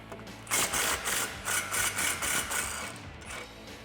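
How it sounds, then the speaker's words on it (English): A 15mm socket ratchet turning to remove a rear shock bolt on a 2005-2014 Ford Mustang: a close, rapid run of rhythmic metallic clicks in quick even pulses, fairly quiet. "now we can take a 15mm socket and remove this bolt"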